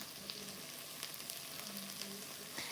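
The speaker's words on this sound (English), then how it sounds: "you hear that sizzle?" Spiced chicken sizzles and crackles steadily in a frying pan, a close, continuous hiss with occasional sharper pops and faint stirring, with no voices.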